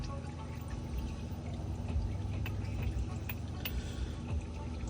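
Engine oil draining from a 2019 Volkswagen Jetta turbo into a pan, a steady faint pouring trickle that runs unbroken throughout, with no one speaking.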